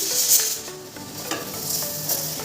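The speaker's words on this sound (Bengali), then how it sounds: "এটা বরবটি না, বিনস আলু ভাজি করছি।" Beans and potatoes frying in a pan, a steady close hiss and sizzle with occasional soft stirring scrapes, heard alone without talk.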